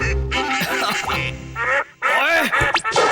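Cartoon ducks quack loudly in a rapid burst of overlapping, nasal calls, with a short pause partway through before the quacking resumes, close and prominent.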